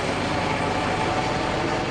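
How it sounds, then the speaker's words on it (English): A Coast Guard helicopter hovers overhead during a search for a missing boy at Moss Landing, a steady broadband rotor and engine roar filling the whole stretch with no talk. "They have a helicopter above"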